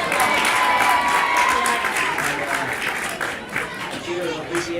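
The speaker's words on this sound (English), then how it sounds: "Cheers of appreciation there from the Rathnure crowd" A hurling crowd at a Rathnure Junior B championship match cheers and claps in appreciation, a dense burst of applause and shouts that is loud at first and then gradually eases off.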